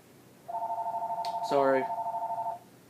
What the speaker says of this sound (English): I'm trying to wait until the phone quits ringing.